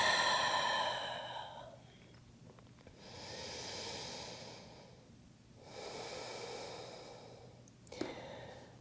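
Deep breaths drawn in and pushed out through the mouth during a guided yoga session, a soft airy exhale followed by two more long, gentle breath swells, close and unaccompanied.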